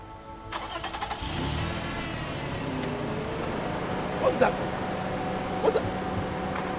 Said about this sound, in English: Driver. Start the engine.